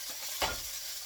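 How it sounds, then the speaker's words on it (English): Salmon skin sizzles in oil in a frying pan, a steady close hiss with a brief louder crackling burst partway through, no voices. "We'll let that sizzle a bit."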